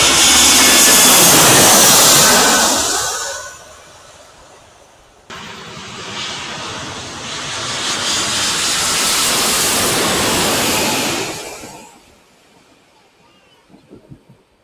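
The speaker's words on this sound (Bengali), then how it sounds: "বিমান আসছে" An airplane approaches to land at Dhaka airport, roaring loudly and close overhead. The jet noise swells, fades briefly, then builds again into a long whooshing roar before dying away.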